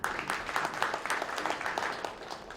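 A congregation at a New Year prayer breakfast of a Christian federation applauds as pastors come forward, a soft, steady patter of many hands heard from some distance.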